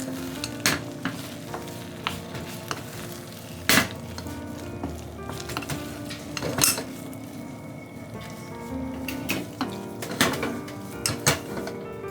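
Rakkyo shallots are stirred through a thick, reduced sauce in a pan, with a soft continuous sizzle and repeated scraping and clinking strokes of the utensil against the pan, fairly close and with no talking.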